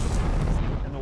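A rigged wall explosion on a film set for a flooding scene, heard as one continuous heavy, rumbling blast with deep low energy and a rushing roar throughout, loud and close.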